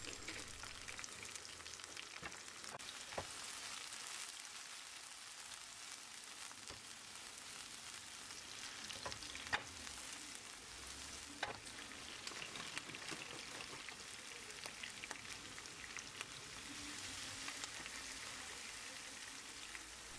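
Steady crackling sizzle of peppers frying in a pan over high heat, with occasional pops and stirring scrapes, close and continuous without talk.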